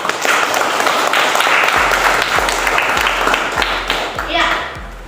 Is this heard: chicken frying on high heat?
no